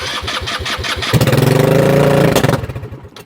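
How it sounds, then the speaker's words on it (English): A buggy engine cranks with rapid chugging, catches and runs on starting fluid, roaring loud and close for about a second and a half before sputtering and dying back out. "So it's just running on the starting fluid right now."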